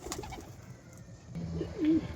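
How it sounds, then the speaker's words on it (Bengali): Soft, low cooing of a pigeon inside a loft, brief and fairly close, against quiet rustling background noise. "লফটের ভিতরে কিছু পায়রা আছে বেরোনোর চেষ্টা করছে"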